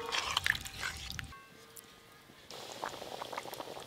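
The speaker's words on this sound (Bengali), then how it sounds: "ঝোল টকবকে হয়ে ফুটে গেছে" Fish curry broth with potatoes, tomatoes and spices bubbles at a rolling boil in a pot, with soft popping and liquid gurgles, briefly quieter midway before resuming.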